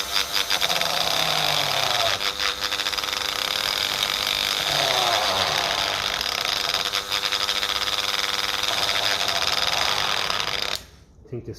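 A worn-out Dremel rotary tool runs continuously at a high, steady whine while working on a Lucas distributor, loud and close for about eleven seconds before cutting off abruptly near the end.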